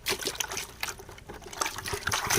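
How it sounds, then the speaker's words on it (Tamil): Water is poured lightly for washing, trickling and splashing in an uneven, close stream with small gurgles and drips, and no talking. "அது இன்னும் கொஞ்சம் லேசாக தண்ணி ஊற்றிடுவோம்"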